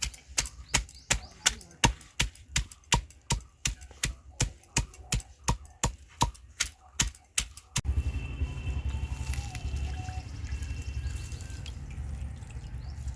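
Grass being pounded to extract its juice for a cooling summer drink, a run of about twenty sharp, evenly spaced thuds, loud and close, then a wet, grinding rumble of crushing.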